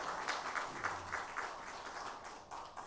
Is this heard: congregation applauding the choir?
yes